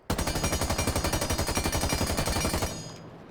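The Spear rifle in Rainbow Six Siege fires one sustained full-auto burst of rapid, evenly spaced loud shots lasting over two seconds, followed by a short fading echo.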